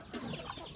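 Farm chickens clucking nearby in a short, continuous burst of overlapping fowl calls.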